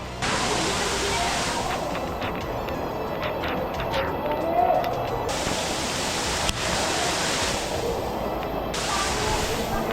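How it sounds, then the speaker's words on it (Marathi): Heavy rain roars in a valley near Bhandardara in the Sahyadri hills, a dense, continuous wash of noise, loud and steady throughout with no pauses. "व्हॅलीमध्ये बहुत जोराचा पाऊस सुरू झाला आहे"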